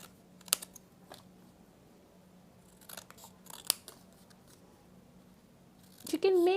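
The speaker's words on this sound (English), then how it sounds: "I'll cut a triangle shape." Scissors snip through a triangle shape in card made from waste material, a few quiet separate cuts spread across the stretch with soft handling noise and a brief voice near the end.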